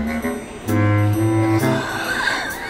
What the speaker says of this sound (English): It's a loud robot serving people behind me.